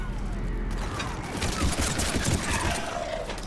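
Rapid gunfire from the video game Mass Effect 3: a dense, continuous fusillade of shots and clattering bursts, loud and steady throughout with a faint voice underneath.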